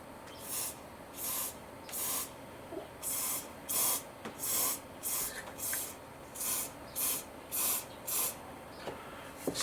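Cheap hairspray is sprayed onto a model garden in a run of about a dozen short hissing bursts, evenly spaced and fairly close, with quiet gaps between them.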